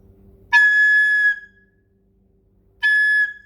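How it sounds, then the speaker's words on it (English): A plastic recorder squeaks from fingers not fully covering the holes, giving two shrill, piercing whistle-like tones, the first about a second long and the second shorter, each ending abruptly, clear and close. "So anytime you play and you notice such a sound, know that your fingers are not properly placed on the holes of the recorder"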